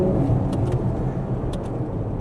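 Electric Ferrari Luce taking a bend at speed: a steady low rumble of road and tyre noise with faint whine, constant and close throughout, with no speech.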